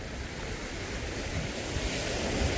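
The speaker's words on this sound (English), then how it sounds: "I just wanted to show you the beach and how busy it is." Surf washes steadily onto busy Silver Beach at Crystal Bay on Koh Samui, a broad continuous roar of breaking waves mixed with wind buffeting the microphone, no voices standing out.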